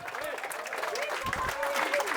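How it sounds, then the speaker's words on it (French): An audience applauds at an outdoor party rally in Brittany, the Fête du cochon, with steady, moderately loud clapping from a crowd and some voices mixed in. "nous pouvons tous, une fois de plus, applaudir Jean-Marie Lebreau"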